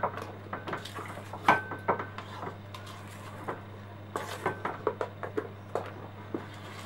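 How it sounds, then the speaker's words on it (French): Batter being gently folded with chocolate chips for all-chocolate muffins, soft scraping and tapping of a utensil against a bowl in an irregular rhythm, close and quiet, with no talking. "on va mélanger délicatement afin d'incorporer les morceaux de chocolat à la préparation"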